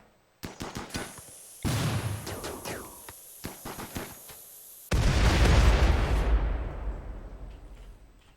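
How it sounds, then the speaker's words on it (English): Gunfire and explosions in the video game RimWorld, sharp bursts of shots in quick succession followed by a loud, sustained blast that slowly fades, with no talking. "Why are you shooting?"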